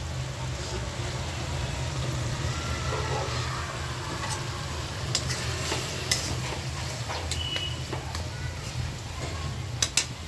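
Hilsa fish curry is sautéed and stirred in a pan, giving a constant dense sizzle with scattered scraping and clinking of the spatula, fairly close and steady throughout.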